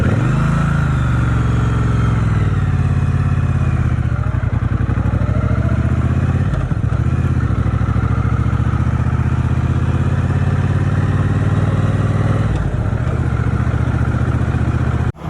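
A 2021 Triumph Speedmaster motorcycle cruising through the English countryside, its engine a loud, continuous low rumble with steady wind roar and slight shifts in pitch as the ride goes on.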